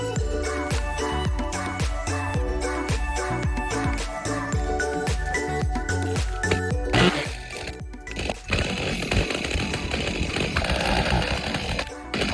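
A chainsaw cuts through brush and wood during a winter yard cleanup, running loud and close with repeated surges as the engine loads and eases, then settling into a steadier, rougher roar near the end.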